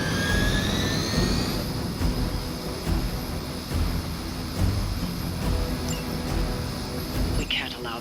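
A steady, loud engine roar with a whining high drone from a helicopter in the Marvel's Midnight Suns video game, continuous throughout with a faint brief sweep near the end.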